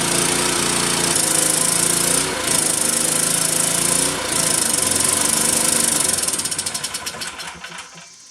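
A Suzuki SV2200L generator, started after sitting for twenty years and nearly out of fuel, runs loud and close with a rough buzzing drone that dips and surges, then sputters and dies away in the final seconds.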